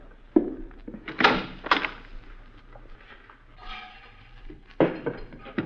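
A closet door in a radio drama creaks and thumps open, with a few sharp knocks and handling sounds amid low muttering from a man searching the room.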